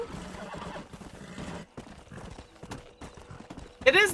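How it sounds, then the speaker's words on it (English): A horse gallops in Red Dead Redemption, rapid rhythmic hoofbeats under a talking voice, ending with a loud neigh near the end. "How fast this horse goes, though."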